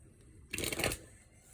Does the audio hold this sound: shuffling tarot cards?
yes